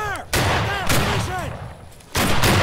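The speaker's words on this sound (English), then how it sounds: "Gentlemen, form battle line. On my left. Hold and give front. A volley. Independent fire." Rifles firing in a Civil War reenactment line battle with cavalry give three loud, close, sharp blasts spread over a few seconds, with shouting voices between the shots.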